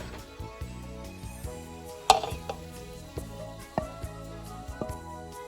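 A spoon or spatula mixes cooked vegetables into rice in a hot pan, giving scattered clinks and scrapes at an irregular rhythm over a quiet background, with one sharper knock partway through.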